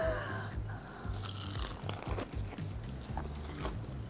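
Close bites and chewing of crunchy fried chicken, with a continuous crackling crunch lasting a few seconds and no talking.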